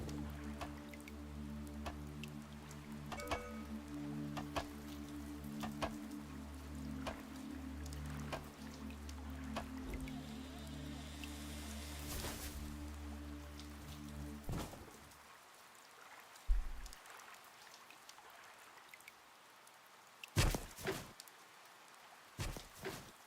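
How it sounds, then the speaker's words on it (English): Rain falls steadily in the GodSIM video game made in GameMaker Studio 2, a continuous hiss over a low droning game tone that cuts out midway, followed by scattered drips and a few sharper taps. "It's beginning to rain."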